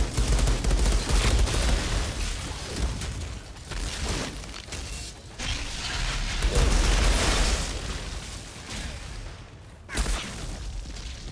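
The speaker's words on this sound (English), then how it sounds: "It changes the gunshot sound too." Gunfire from a video game gun: loud, dense bursts of rapid shots and blasts run almost without a break, with brief dips before the firing surges again.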